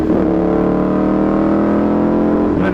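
A Ducati 848 Evo sport motorcycle engine revs loudly and steadily up close for a few seconds, its deep throbbing drone holding a sustained high pitch before dropping off at the end.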